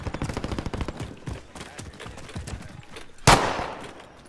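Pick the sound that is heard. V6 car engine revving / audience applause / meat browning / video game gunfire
video game gunfire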